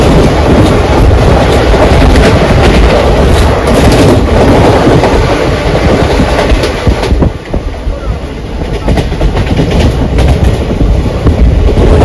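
The Kachiguda Express rumbles loudly along the rails with steady clickety-clack rhythm and strong wind roar, close and continuous, easing slightly in the latter part.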